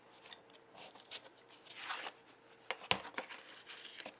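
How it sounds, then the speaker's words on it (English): Scissors snip through paper along three sides of a small flap door cut into a journal page, giving a run of soft, close, quiet cuts with one sharper snip near the end. "So just cut the 3 sides."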